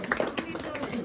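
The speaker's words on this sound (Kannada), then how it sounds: "ಚಪ್ಪಾಳೆ ಚಪ್ಪಾಳೆ ಹೇಳಿರೋ" People clap at a housewarming family function: a few scattered claps mixed with close, overlapping talk from the gathered guests.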